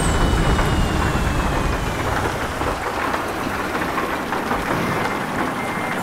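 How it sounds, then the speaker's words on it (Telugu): Heavy rain pours steadily on a ghat road during an APSRTC bus drive, a dense, continuous roar of drops hitting surfaces, loud and close throughout, with a faint engine hum underneath. "వర్షం పడుతుంది గట్టిగా"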